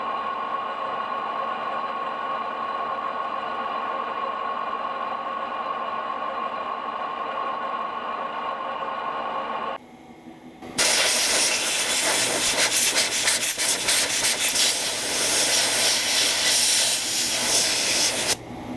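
A metal lathe takes a 50 thou cut on a small-diameter workpiece: a steady broadband hiss with a faint tonal ring, then a brief dip and a louder, harsher, brighter cutting noise that holds to the end.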